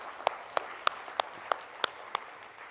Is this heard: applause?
yes